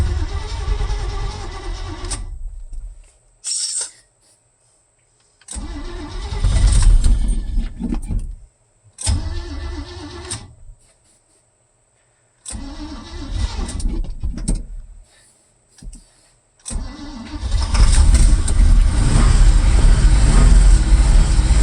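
1977 Chevrolet squarebody truck engine cranked repeatedly in bursts separated by silences, followed by a sustained loud running roar near the end, heard close up.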